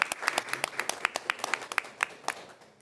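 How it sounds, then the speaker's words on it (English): Scattered audience applause at a book festival panel, individual claps distinct and sharp, fairly close, thinning out and fading toward the end without any talk. "I think we should have some applause."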